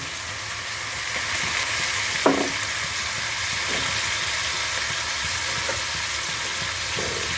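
Shrimp stir-fried with soy sauce in a pan gives a loud, constant hiss and sizzle close by. A few clinks from the utensil against the pan come through, and no one speaks.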